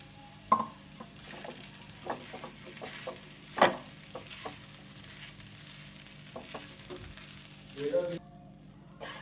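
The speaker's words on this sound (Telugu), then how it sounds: "ఇందులో వేసేసి కొంచెం కలర్ మారి మంచి ఫ్లేవర్ వచ్చేంత వరకు ఫ్రై చేసేసుకోండి" Grated coconut fries quietly in a pan, a faint low sizzle under intermittent scrapes and taps of a spoon stirring it, heard close but soft with no talking.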